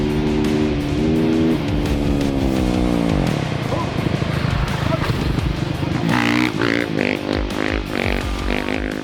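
A Mercedes-AMG GT engine and exhaust roar continuously while the car drifts, with loud sustained revving that sweeps in pitch, and people talking over it.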